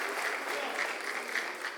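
A church congregation applauds together in a continuous, even clatter of many hands, moderately distant and sustained.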